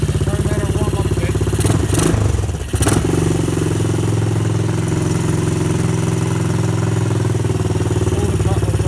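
A Honda ATC 200M three-wheeler idles while warming up, producing a steady, loud, close putter with a brief throttle blip and rattle early on before it settles back to an even idle.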